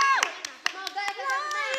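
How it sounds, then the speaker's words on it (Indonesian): Several sharp handclaps from a live-stream audience in Indonesia, spaced irregularly and fairly close, over a bed of chatter and a voice talking throughout. "Tepuk tangan semuanya."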